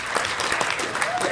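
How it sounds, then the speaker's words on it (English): Brief, loud burst of audience applause at a 2015 rural advocacy award ceremony, dense clapping from many people filling the room close by. "That certainly deserves a big round of applause."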